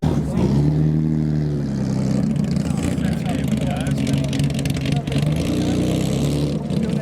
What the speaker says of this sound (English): We've got a Sunbeam Alpine coming in with an XK120 behind it, sounding lovely.